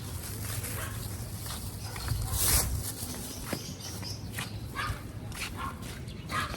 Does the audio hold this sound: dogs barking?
yes